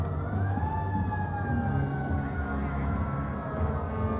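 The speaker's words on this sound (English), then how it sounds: "now we're hearing some sirens" A wailing siren rises and holds over a low rumbling engine, fairly loud and continuous, as an emergency vehicle approaches during a Christmas parade.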